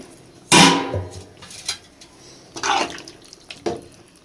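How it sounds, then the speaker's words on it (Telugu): Water is poured into a pan of mushroom curry during cooking, with a loud splashing gush at the start followed by several shorter, softer pours and splashes separated by quiet pauses. "ఇప్పుడు నీళ్ళైతే పోసేసుకోవాలి"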